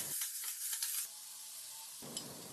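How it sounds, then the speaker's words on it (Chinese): Tomatoes stir-fried in a wok, giving a soft steady sizzle with a few scraping stirs early on, a quieter stretch, then a louder burst of frying near the end, close and with no talk. "先在锅里炒香西红柿"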